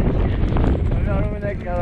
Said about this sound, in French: Ici, ça c'est vraiment fort le vent.